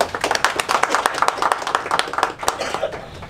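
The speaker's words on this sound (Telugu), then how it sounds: "ప్లీజ్ క్లాప్స్ మీడియా వాళ్ళందరికీ" Audience applause at a Telugu film pre-release event, a dense, steady patter of many hands clapping close by that continues evenly throughout.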